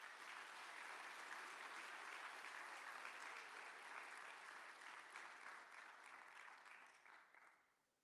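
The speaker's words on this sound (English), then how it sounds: "Round of applause for our band members." Sustained applause from a crowd, steady and full for several seconds before tapering off at the end.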